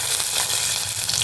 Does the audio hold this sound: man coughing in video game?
no